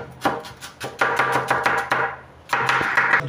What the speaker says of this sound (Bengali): আমাদের ভাই পেঁয়াজ কাটতেছে, চায়না বিশাল বিশাল বড় পেঁয়াজ